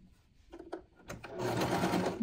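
A sewing machine stitches close along the edge of a fabric bookmark, starting with a few short taps and then settling into a steady, close whir that holds to the end.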